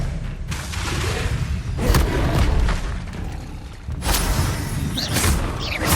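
Confringo spell blasts from the video game Hogwarts Legacy land as several heavy booming thuds with whooshes, loud and close amid ongoing combat noise.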